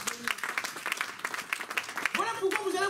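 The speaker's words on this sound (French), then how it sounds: "Donnons une acclamation." Church congregation clapping and cheering in an acclamation, a rippling burst of applause mixed with voices calling out, moderately loud and lively.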